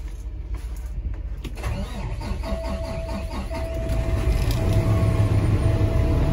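An International truck with a 13-speed transmission and high-mileage diesel engine cranks and fires up, its rumble building and settling into a steady, fairly loud idle with a faint whine above it.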